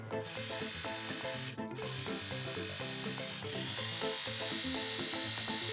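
An overlock serger stitching the shoulder and side seams of a dress bodice, with a fast, steady mechanical chatter and rhythmic pulsing clicks running close and continuous, broken by a couple of brief sharp bursts.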